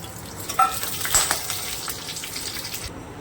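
Dried chilli, kalonji and radhuni seeds crackle in hot oil, giving a soft continuous sizzle with a few sharp pops near the start, fairly quiet and without talking.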